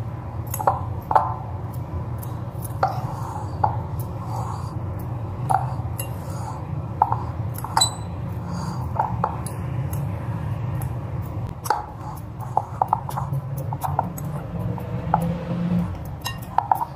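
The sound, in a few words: mixing cutlet mixture with white pepper in a bowl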